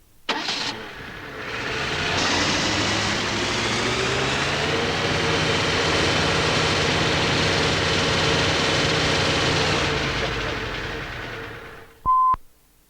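A Major Four tractor engine is started and revved to about 3,000 rpm, rising quickly, then holding a loud steady drone for several seconds before dropping away, followed by a short sharp click.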